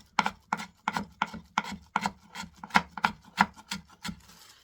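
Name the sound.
knife julienning dongchimi radish thinly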